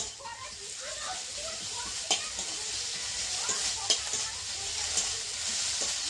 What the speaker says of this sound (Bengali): দেখো আমার পেঁয়াজটা ভাজা ভাজা হয়ে এসেছে। এরপরে আমি দিয়ে দেবো আদা।